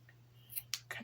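Scissors snip through macrame cord, for a Dollar Tree macrame bracelet, in three quick, crisp cuts close to the mic in a quiet room.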